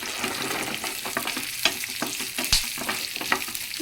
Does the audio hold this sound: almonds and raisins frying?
yes